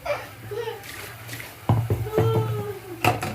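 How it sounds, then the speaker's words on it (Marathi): Water splashes and pours from a small metal pot into a cooking pot up close, with sloshing bursts and a faint voice in the background. "आता याच्यामध्ये मी एक तांब्याभर पाणी टाकून घेईल"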